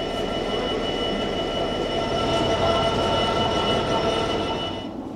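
A new Class 730 electric train rolls out of the sidings, a steady rumble of wheels on rail with faint squeal and a continuous motor whine, fairly close and unbroken, with no talk.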